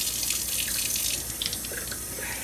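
Running tap water pours steadily into a sink as broccoli sprouts are rinsed, a continuous bright splashing rush with small drip-like variations, close and alone with no talking.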